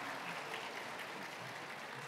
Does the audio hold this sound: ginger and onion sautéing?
no